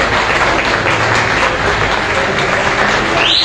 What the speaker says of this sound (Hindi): सारे भाइयों ने ताली बजा के वेलकम करने हैं अर्जुन सती साहब को